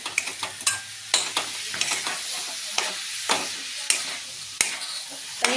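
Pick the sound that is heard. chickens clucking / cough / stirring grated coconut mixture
stirring grated coconut mixture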